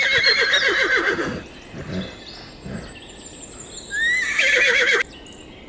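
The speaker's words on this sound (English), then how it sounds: "Horse." Horse neighing, a loud whinny with shaky descending pitch, then quieter snorts, followed by a second rising, trembling neigh, close and alone.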